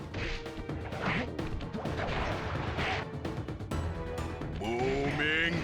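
A booming chop attack from the Sly Cooper video game, with heavy smashing thwacks and swishes repeating over several seconds amid busy game sound and a faint voice.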